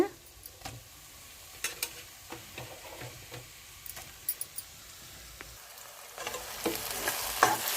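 Onions and tomatoes frying in a pan on a charcoal stove make a soft, steady sizzle broken by irregular scrapes and clicks of stirring, with the frying growing louder and brighter near the end.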